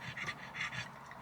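Dogs pant inside a car in quick, rhythmic breaths, close and soft, with no talking.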